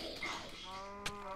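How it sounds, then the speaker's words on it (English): A cow in Minecraft gives a short, low moo that rises into a tonal call, faint and brief, with a sharp click partway through. "There's a cow."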